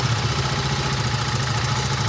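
A 2025 TVS Apache RR 310 motorcycle idling during its first service, a steady, close, throbbing low engine hum with an even rhythmic pulse and no talk.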